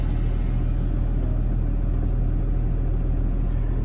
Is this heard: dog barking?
no